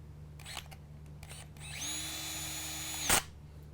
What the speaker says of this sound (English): I always have a drill to put them back in with